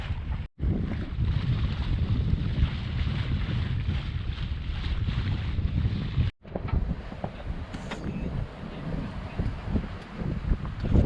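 Steady rushing wind and water wash over a sailboat picking up speed and heeling in gusty wind, with gusts buffeting the microphone and two brief dropouts.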